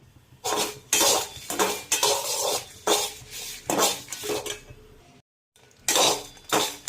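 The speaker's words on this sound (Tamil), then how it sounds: "நான் இப்போ 7 வத்தலை மீடியம் ஃப்ளேமில் வச்சு வறுக்க போகிறேன்" Seven dried red chillies roast in a pan over a medium flame, stirred with a utensil that scrapes and clinks against the metal in loud, uneven bursts with a brief gap.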